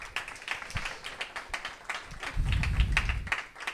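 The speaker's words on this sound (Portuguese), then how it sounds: "Uma salva de palmas." Audience applause at the end of a workshop talk at a Passivhaus building conference in Portugal, scattered handclaps from a modest crowd, fairly faint and roomy, with some low rumble partway through.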